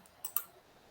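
A couple of quick, faint keystrokes on a computer keyboard, two light clicks close together against quiet room tone.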